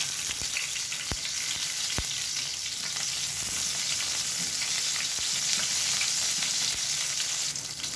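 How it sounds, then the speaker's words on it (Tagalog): Onions sauté in hot oil in a pan, giving a dense, steady sizzle with occasional faint clicks of stirring, close and even throughout, with no voices. "Then igisa na natin yung sibuyas."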